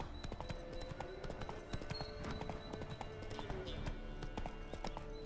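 Hooves of Roach, the horse in the video game The Witcher 3, clip-clop steadily throughout against busy game sounds, with tapping, rattling detail and voices faintly underneath.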